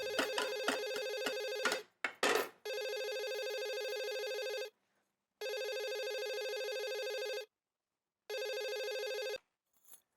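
A telephone rings at home in a repeated electronic bell pattern, a few quick chirps followed by three long even rings separated by silent gaps, loud and clear with no talking.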